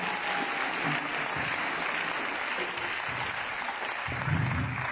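A church congregation applauds loudly and steadily, dense clapping filling the room without a break, with a brief swell of voices near the end.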